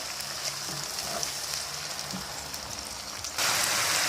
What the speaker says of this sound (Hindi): ये हमें 2 मिनट्स हो गए टमाटर्स को जो है वो फ्राई करते हुए।